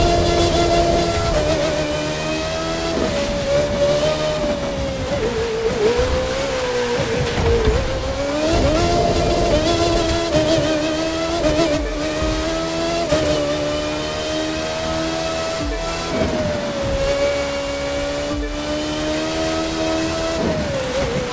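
An open-wheel race car in The Crew 2 tears through empty New York City streets, its high engine whine rising and falling steadily through gear changes and revs, loud and continuous for the whole stretch.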